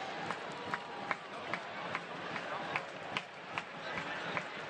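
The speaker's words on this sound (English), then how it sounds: "Crowd is rocking right now." A distant, steady roar from a stadium crowd at a Tampa Bay Rowdies versus Miami FC soccer match, with faint claps and shouts, heard quietly under a commentator's voice.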